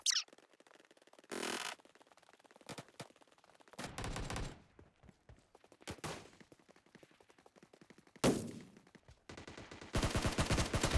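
Bursts of gunfire from the battle game PUBG, several sharp rapid volleys separated by short gaps, loud and close, with a final sustained burst at the end.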